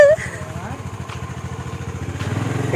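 A motorbike engine idles and putters with a steady rapid beat, close by, rising slightly toward the end; a voice briefly speaks at the start.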